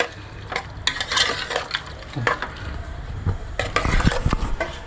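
Chole masala being stirred in a pot, a spoon scraping and clinking against the metal in irregular strokes, close and moderately loud with a faint sizzle underneath and no talk.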